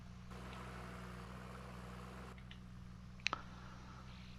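A tractor engine idles with a steady low drone in Farming Simulator 25, alone without talk, with a couple of brief clicks near the end.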